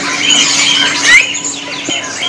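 Sooty-headed bulbuls (kutilang) call from a stock cage at a bird shop, shrill chirps and squawks close by, layered with other cage-bird noise throughout.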